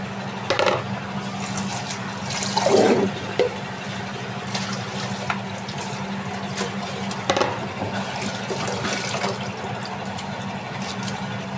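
Tap water runs steadily over thinly sliced potatoes being rinsed by hand in a kitchen, with a soft continuous hiss, a low steady hum underneath and a few louder splashes and clatters.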